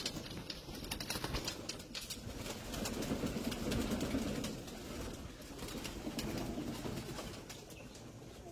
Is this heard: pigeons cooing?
yes